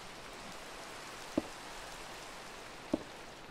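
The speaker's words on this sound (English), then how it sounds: "You run in, get out of the rain." Steady rain falling outside in the countryside, a soft even hiss throughout, with two sharp knocks standing out briefly above it.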